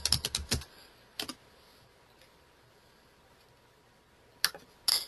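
Clicky computer-keyboard typing comes in quick bursts of keystrokes, up close, with a long quiet pause in the middle before a few more keys are tapped while logging into an account.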